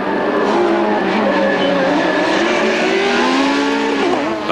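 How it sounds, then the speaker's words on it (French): Touring race cars including a privately entered BMW at Monza during an ETCC race, loud sustained engine roar with layered rising and falling pitches as several cars pass close together, continuous and dense throughout. "C'est pourtant le Hollandais Tom Coronel, au volant d'une BMW privée, qui pointait en tête au passage de la première chicane."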